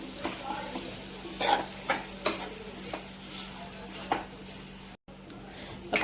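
A spoon stirs and scrapes potato vada filling with coriander in a pan, producing a quiet sizzle and several distinct scraping strokes, with a brief dropout near the end.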